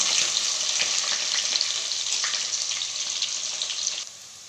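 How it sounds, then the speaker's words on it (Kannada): Onion and green chilli frying in oil in a pan, a dense, steady close sizzle with faint stirring that drops quieter just before the end. "ಒಂದು ಈರುಳ್ಳಿ, ಒಂದು ಮೆಣಸಿನ್ಕಾಯಿ ಹಾಕ್ಕೊಂಡು ಚೆನ್ನಾಗಿ ಫ್ರೈ ಮಾಡ್ಕೊಳ್ಳಿ"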